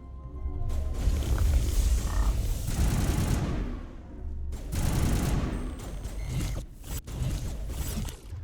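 Pistol gunfire from a Mass Effect combat exchange, loud, dense bursts of shots with short pauses, crackling close in with game effects layered over it and no voices.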